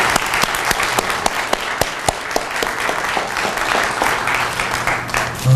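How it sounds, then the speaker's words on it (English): An audience at a university Title VII symposium breaks into a round of applause, steady crowd clapping with several distinct close, sharp claps standing out, lasting the whole stretch. "let's give them a nice round of applause"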